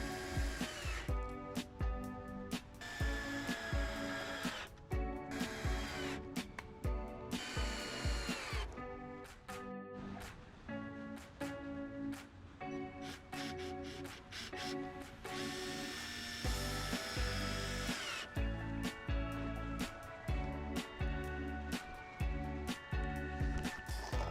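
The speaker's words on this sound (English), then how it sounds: "I'm pretty much just screwing them right into the side of the panels." Power drill driving screws into the side panels of a DIY skate ramp, heard as repeated bursts of whirring with short pauses between them. The sound is close and loud and fills the whole stretch, with no talk over it.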